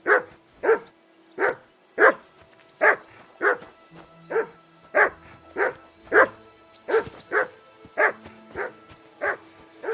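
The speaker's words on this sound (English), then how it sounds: "I assume you can hear that damn dog of yours barking." A dog in Kingdom Come: Deliverance II barks persistently, a regular series of about fourteen clear, fairly close barks over ten seconds, with faint background game sounds.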